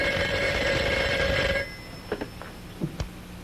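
An old telephone's bell rings loudly and continuously, then cuts off, followed by a few soft clicks and handling knocks as the receiver is picked up.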